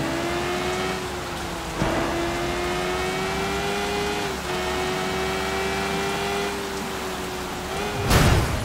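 Steady rain hisses across the scene in the open-world game Sleeping Dogs, under a constant humming vehicle engine drone, with a brief louder crackle near the end.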